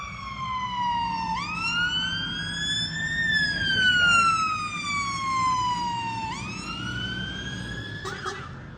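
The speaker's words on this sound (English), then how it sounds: "Fire engine." A fire engine siren sounding near a roundabout, its rising and falling wail sweeping up and down in long repeated cycles, loud and close over low traffic rumble.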